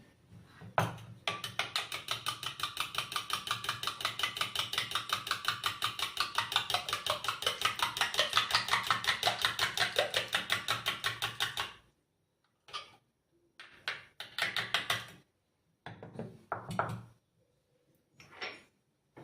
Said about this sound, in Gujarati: દહીંને આપણે ફેટી લેશું